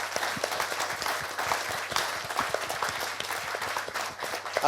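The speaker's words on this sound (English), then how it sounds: "give a massive round of applause to Jude" Audience applause at a Birmingham Digital Week business event, a steady wash of many hands clapping throughout, moderately loud and with no talk over it.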